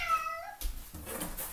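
A house cat wanting to be let in meows in a clear rising-falling call, followed by scuffling and rustling noises, close and fairly quiet.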